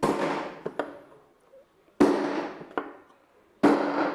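A bearing tapped into place with a hammer on its outer edge during appliance repair, three sharp metallic strikes a couple of seconds apart, each followed by lighter taps, with the ringing tone changing as the bearing seats.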